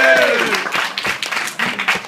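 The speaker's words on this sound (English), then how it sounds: "Start clapping again." Wedding guests applaud during the reception speeches, a short burst of loud, dense clapping from a crowded room.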